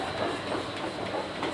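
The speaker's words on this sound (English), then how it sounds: "It's got quite a nice woody sort of sound to it as it's chugging away" Wooden watermill machinery with wood and leather parts turning inside an old mill, giving a steady, busy chugging and clattering rumble that runs continuously and close by, with no voices.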